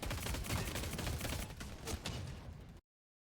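Dense gunfire in a video game, aimed at a mech: a continuous loud, rattling barrage of rapid shots for nearly three seconds before it cuts off abruptly.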